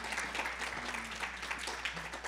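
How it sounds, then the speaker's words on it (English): A breakfast tribute crowd applauds steadily, a dense, even wash of many hands clapping throughout at moderate volume with no pauses. "she deserves a round of applause"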